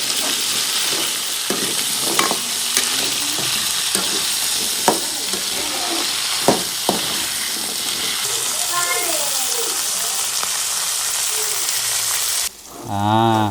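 Onions with curry leaves and spices frying in oil for a village-style country chicken sukka; a steady loud sizzle runs throughout with scattered stirring clinks, faint voices and a cow's moo near the end.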